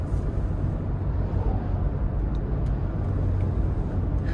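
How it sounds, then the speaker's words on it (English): A 2026 Toyota 4Runner Hybrid TRD Off Road Premium with a turbocharged four-cylinder and electric motor accelerates out of a corner, giving a steady loud engine drone and road rumble heard from inside the cabin. "I love having the turbo pull coming out of a corner, especially with the electric motor as well"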